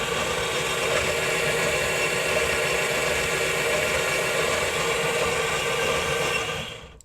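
The motor of a 3D-printed droid wheel assembly turns an unlubricated gear with a steady, close mechanical whir and faint rattle. It runs evenly, then cuts out at the end.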